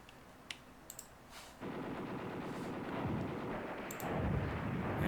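Artillery and gunfire crackle through a city battle in the war game Command Ops 2, sharp distant shots popping over a steady rumbling barrage that swells louder partway through, with no talk.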